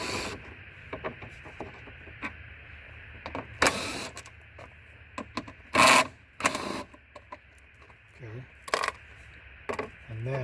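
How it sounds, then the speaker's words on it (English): Power tool whirring in short bursts as 10mm bolts come off a panel on a Yamaha RMAX 1000 side-by-side, mixed with clicks and rubbing of parts, close up. "You have 3 10mm bolts here, which I'll remove now."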